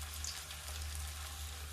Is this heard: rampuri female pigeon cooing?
no